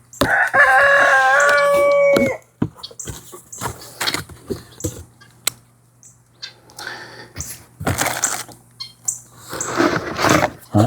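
A rooster crows loudly and close for about two seconds, then guinea fowl follow with scattered short calls and clucks, some near and some farther off, in a quiet outdoor setting.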